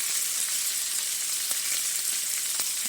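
Bacon fries on a hot grill surface, giving a steady, dense sizzle with occasional small pops of grease. The sound stays at an even level throughout, and no one talks.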